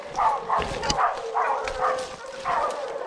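Hunting hounds bay and yelp in a rapid, uneven series of howling barks, fairly close, with a brief lull before the calls resume.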